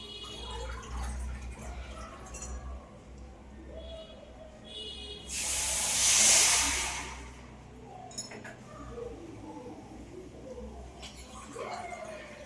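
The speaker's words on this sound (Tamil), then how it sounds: "ஊற்றிடுவோம் அதே டம்ளர்லேயே தண்ணி" Water pours steadily from a tumbler into a pan of sugar for about two seconds, a loud rushing splash rising out of quiet kitchen background with faint drips.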